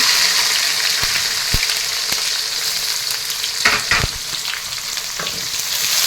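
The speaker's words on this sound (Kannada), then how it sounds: "ಈರುಳ್ಳಿ ಮುರ್ಕೊಳ್ಳೋಣ" Onions fry loudly with mustard seeds, dry chilies and curry leaves, a dense continuous crackling sizzle close by, with a few scraping stirs and knocks from a utensil.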